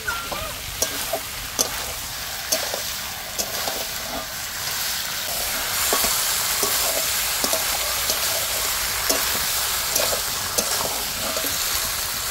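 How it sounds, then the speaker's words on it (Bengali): Meat cooking in hot oil, a close continuous hissing sizzle with regular sharp clicks and scrapes of stirring throughout, no voices over it. "আর এই যে মাংস রান্না হচ্ছে, এটা তেলে তো একটু দারুণ"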